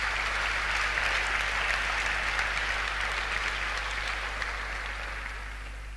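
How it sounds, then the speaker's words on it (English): Audience at a launch event for a technology initiative breaking into sustained applause, a dense even roar of many hands that fades slightly toward the end, heard over a low steady hum. "Let's have a huge round of applause for the Cape Innovation and Technology Initiative."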